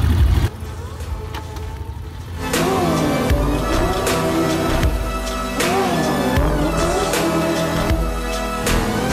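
A motorbike engine fires on the first kick and keeps running at a retro motorcycle weekend at Goodwood, a loud, steady idle with blipped revs, while people talk nearby.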